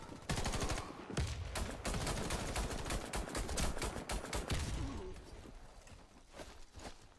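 Rapid pistol gunfire in a video game team deathmatch, dense cracking shots bursting repeatedly for several seconds before tapering off, loud and close.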